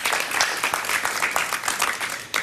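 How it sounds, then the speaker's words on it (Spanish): Studio audience applause on a Spanish-language evening talk show, a dense steady wash of many hands clapping at close range, filling the whole moment without speech. "Un aplauso para ellas, por favor."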